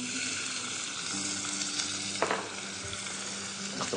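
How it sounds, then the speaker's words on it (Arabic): Onions fry in a little oil in a pan, giving a continuous, close sizzle with a few brief stirring scrapes and no voices. "باش نحطوا شوية زيت في شوية زيت، وباش نقليو البصل"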